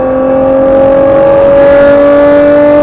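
A Nissan Skyline GTR accelerates hard on a racetrack, its engine droning loud and steady with a rising whine that climbs gradually through the pass, close and continuous with no talk.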